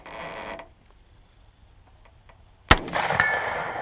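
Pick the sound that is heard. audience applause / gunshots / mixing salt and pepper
gunshots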